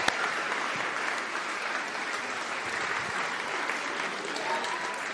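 An audience at a family Christmas Eve carol service by candlelight gives a steady, dense round of applause that fills the whole stretch at an even level, with voices blending faintly into the clapping.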